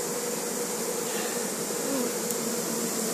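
A swarm of honeybees buzzes in a dense, steady drone during an apiary hive capture, with black flies and mosquitoes also about; the hum fills the whole moment without pause and no one speaks.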